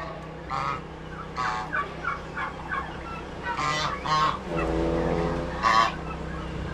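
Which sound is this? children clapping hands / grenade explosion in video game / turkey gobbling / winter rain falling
turkey gobbling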